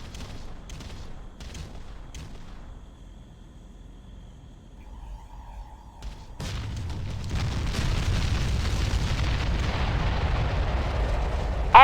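Artillery bombardment in the strategy game Ground Control, distant thuds and crackles early on, then a sudden swell into a dense, continuous rumbling roar of explosions that stays loud to the end.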